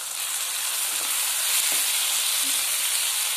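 Garlic paste sautés in a pan with a continuous bright sizzle and hiss, with a couple of soft stirring knocks.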